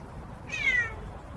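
A parrot imitates a cat's meow in a single short, clear, rising-then-falling call, close by over a faint background hum.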